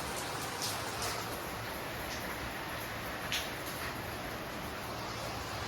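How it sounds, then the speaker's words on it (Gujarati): Steady, dense rain hisses continuously, with occasional sharper drip ticks standing out against the constant wash. "જબર વરસાદ પડે બહાર તો"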